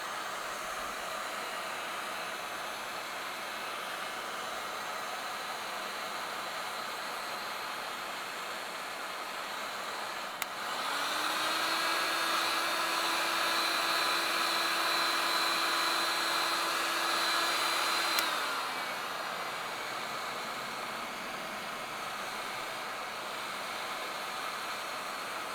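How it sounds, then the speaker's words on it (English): A heat gun set to low blows steadily over freshly applied Amaco celadon glaze, a continuous airy whoosh with a faint whine that switches on abruptly, holds for about eight seconds, then cuts off, leaving quiet room tone on either side. "So I'm going to grab my heat gun, which I have right here."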